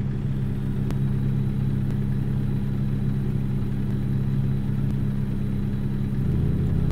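An International truck driving in American Truck Simulator, a steady low diesel engine drone with a constant hum and faint clicks, heard alone without talk.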